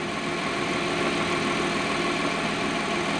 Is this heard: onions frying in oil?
no